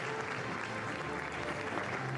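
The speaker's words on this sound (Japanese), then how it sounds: "大きな拍手で迎えられました" Steady, dense clapping from a crowd in a hotel ballroom as Ehime FC players enter to be welcomed, continuous and even throughout.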